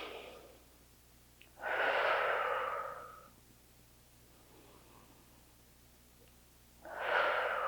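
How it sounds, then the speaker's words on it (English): Slow, deep breaths during a gentle mobility exercise: two long, airy exhales several seconds apart over quiet room hiss, close and soft, with no talking. "Take a few breaths here."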